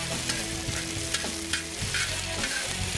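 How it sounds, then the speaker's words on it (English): Onions and peppers sizzling in olive oil on a grill, a busy crackle with scraping stirs and small pops, close and fairly loud with no voices. "Make sure you move those onions and peppers around nice and neat in your olive oil."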